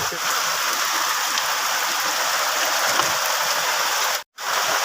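Steady, dense rain hisses without pause, loud and close, with one brief cut-out near the end.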